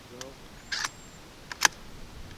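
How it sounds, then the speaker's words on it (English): The bolt of a Savage Rascal .22 rifle pulled back, heard as a few crisp metallic clicks and a short scrape in two brief clusters, close and distinct against quiet surroundings. "And now pull the bolt back."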